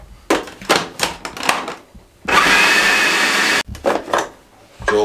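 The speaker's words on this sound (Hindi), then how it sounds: "2 स्लाइस हमारे पास ब्रेड के हैं, इसको हम चॉपर में डाल के चॉप करने लगे हैं।" Electric chopper blitzing two slices of bread for aloo seekh kabab: a loud, steady motor whir running about a second and a half, framed by short clattering bursts and knocks before and after.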